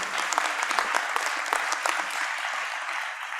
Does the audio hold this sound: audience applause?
yes